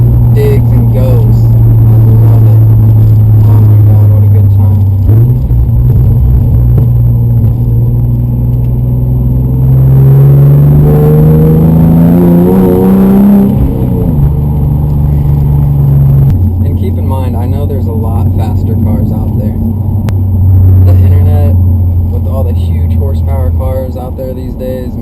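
A naturally aspirated car engine of about 430 horsepower pulls hard under acceleration, a loud, close, steady drone rising in pitch through gear changes, with someone talking over it.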